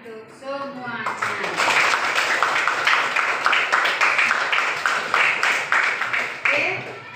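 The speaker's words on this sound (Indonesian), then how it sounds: "Ya, tepuk tangan untuk semuanya." Students in a classroom break into sustained, dense applause that carries on for several seconds after a voice speaks briefly at the start.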